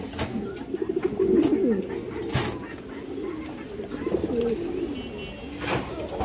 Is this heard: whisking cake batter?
no